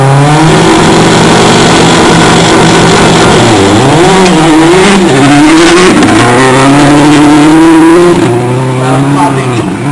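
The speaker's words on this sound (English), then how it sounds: "Rocket Bouchard on track right now" A rally car on a stage of the Oregon Trail Rally roars loudly past, its engine revving and shifting pitch as it accelerates and lifts, with faint voices underneath.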